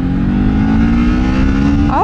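A 2024 Kawasaki Ninja 500 motorcycle engine drones loud and steady at close range while riding, its pitch climbing sharply in a brief rev at the very end.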